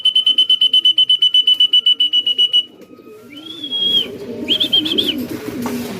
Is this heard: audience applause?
no